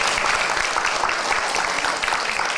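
Steady applause from a church congregation during a Sunday sermon, sustained clapping at an even level for a few seconds, with no voices standing out.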